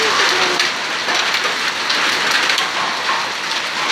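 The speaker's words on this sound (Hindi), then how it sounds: "सुपौल में सेहो ओलावृष्टि भेल" Hail pounds down during an unseasonal hailstorm in Supaul, Bihar, a dense, steady, loud hiss of countless stones striking surfaces close by, with no voices.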